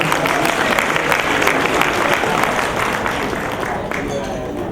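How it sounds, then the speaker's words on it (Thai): Sustained audience applause at a Lions club tribute ceremony honoring a former district governor, a dense steady wash of many hands clapping for the event organizing team, loud and continuous throughout. "ขอเสียงปรบมือให้กับทุกท่านเลยครับ"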